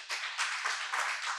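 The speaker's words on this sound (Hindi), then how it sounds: "ताली बजाकर अपनी पीठ थपथपाओ" An audience claps through a live spiritual discourse by a Jain monk, a steady mid-distance patter of many hands with no pauses and no talk over it.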